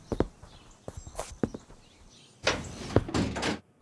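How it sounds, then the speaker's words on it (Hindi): A door is pushed shut indoors, giving a solid thud with scattered knocks and movement before it, followed by a louder burst of rustling, mostly without voices. "दरवाजा बंद करो।"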